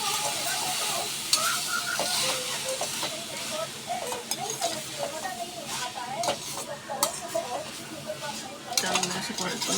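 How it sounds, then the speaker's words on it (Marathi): Pav bhaji being stirred in a pan, with a steady scraping of utensil against metal over a low sizzle, close and continuous, the occasional clink of cutlery breaking through. "जरा ढवळायचं."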